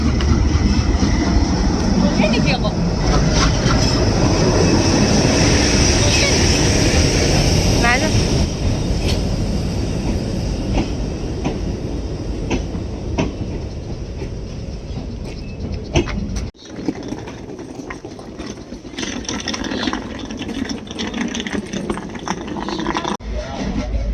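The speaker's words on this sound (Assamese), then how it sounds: "ট্ৰেইন আহি আছে, ট্ৰেইন পালেহি" A train pulls into Jorhat Town station with a loud, steady rumble that fades after several seconds. Voices talk over it on the platform.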